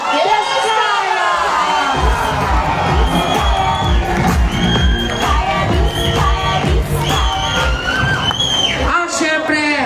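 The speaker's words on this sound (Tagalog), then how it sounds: "bigyan natin ng isang malakas na palakpakan ng kasamang hiyawan!" A crowd at an evening political rally roars with cheering, whoops and shouts for the mayor, loud and continuous with clapping mixed in for nearly ten seconds.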